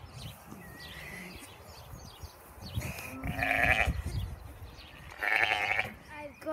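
Sheep bleat a few times, loud and fairly close, over an outdoor background with faint bird calls and some talking.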